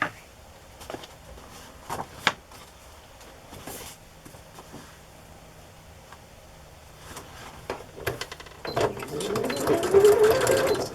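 A sewing machine zigzag-stitches green rickrack onto a fabric Christmas journal. Scattered clicks and light handling sounds come first, then the motor whirs up and runs steadily toward the end, close by.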